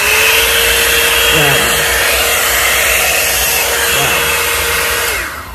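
A HODEKT 2-in-1 hot air brush comb runs on its low setting with a loud, steady whooshing blower roar that fades slightly at the end, while a voice briefly speaks over it.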